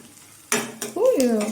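Garlic added to a pan for potato masala, a brief burst of sizzling with a couple of clinks of a utensil against the pan, and a voice begins speaking at the end.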